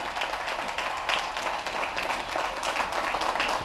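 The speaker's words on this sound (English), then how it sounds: "Whoa, no standing, tepid applause at best." West Point cadets give President Obama a steady, broad wash of applause from a large crowd in a big venue, moderately loud and even throughout, with no cheering.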